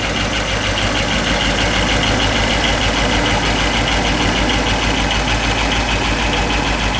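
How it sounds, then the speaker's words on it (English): A 1959 Ford Galaxie 500's 332 two-barrel Thunderbird Special V8 idles steadily and close up, a continuous low rumble with a faint rhythmic knock running the full length, no voices. "Motor runs awesome."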